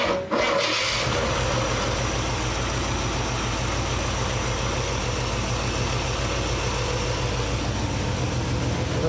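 A Holden HG with a 350 V8 cranks and catches in a brief burst at the start, then settles into a steady, loud, rumbling idle that runs without a break, with no voices.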